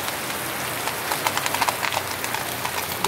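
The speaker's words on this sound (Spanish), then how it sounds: "La lluvia como bajando por ahí" Rain falling in Loma de Cabrera after a long dry spell, a steady hiss of drops patters on surfaces, close and continuous, with no voices.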